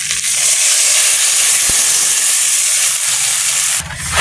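Water poured into a hot pan of fish curry with fried garlic: a loud, steady hiss of steam and sizzling holds for a few seconds before easing slightly near the end.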